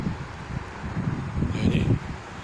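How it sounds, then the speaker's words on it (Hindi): Strong wind gusting across an open field of lucerne crop, a steady broadband rush with low rumbling buffets on the microphone that swell toward the end. "ये हवा चल रही है तेज़"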